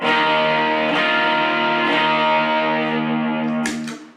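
Electric guitar on the bridge humbucker through a Gunslinger distortion pedal and a Tube Screamer into a Yamaha THR5 amp: three loud sustained distorted chords, each struck about a second apart, ringing alone before a final quick strum and fade.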